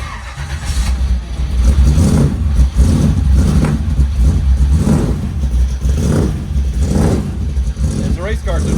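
A Ferrari V12 race car engine starts and warms up after head bolt repairs that had left dead cylinders, giving a deep rumbling idle with rhythmic low pulses and surges while a person talks over it nearby.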